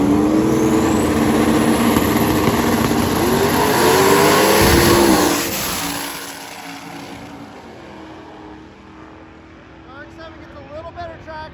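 A Ford Mustang and a Mazda RX-7 make a drag race pass: a loud, roaring engine pull with rising pitch that peaks, then fades sharply into distant rumble, and a commentator talks over it.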